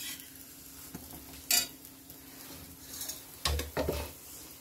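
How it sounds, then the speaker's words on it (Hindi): An onion and potato aloo paratha cooking on a griddle, with a low sizzle under scattered scrapes and clinks of a utensil against the pan, close and without talk. "ये कितना बढ़िया सिक रहा है"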